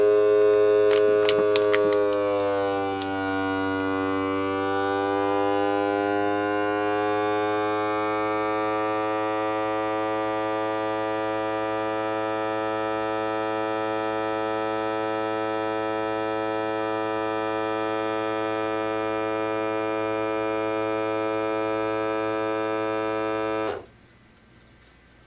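A Keenray vacuum sealer machine hums steadily with a strong buzzing drone, running continuously for about twenty seconds, then cuts off abruptly near the end.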